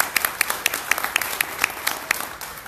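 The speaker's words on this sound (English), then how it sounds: "Can we just all clap for them one more time?" A church congregation claps for visiting YWAM mission teams, a brief burst of scattered, fairly close hand claps with distinct individual smacks that thin out after a couple of seconds.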